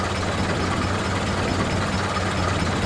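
A tractor engine in the video game GTA 5 drones steadily at a loud, constant idle-like rumble with no variation or voices throughout.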